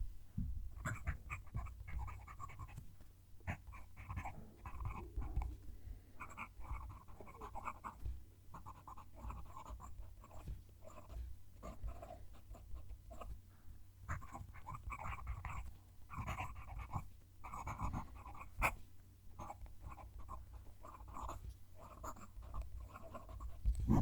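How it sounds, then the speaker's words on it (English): Stiff-nibbed Just Turnings Mimas fountain pen scratching across paper up close, a steady run of short scraping strokes with brief pauses between words of a written sentence. "I'm going to move the mic down to the page and write a sentence."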